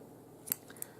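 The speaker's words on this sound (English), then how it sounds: "Snip the end." Scissors snip the end of yarn during a crochet lesson, two quick, crisp cuts close by, the second lighter than the first, in an otherwise quiet room.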